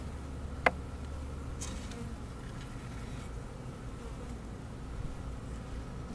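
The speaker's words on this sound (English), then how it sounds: "See all the bees." Honeybees from a package installation buzz steadily as a dense, continuous drone close by, with a brief sharp tick near the start.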